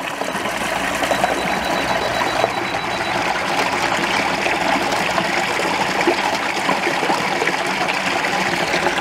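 A woodland brook flows steadily and close by, its broadband rushing and trickling water continuous from start to finish with no voices.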